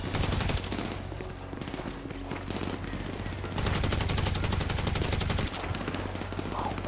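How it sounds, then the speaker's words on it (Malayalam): Gunfire in the video game GTA V Online comes as rapid automatic bursts and sharp shots, loud and clustered, with game background sound between the volleys. "ഇവിടുന്ന് വെടി വരുന്നേ."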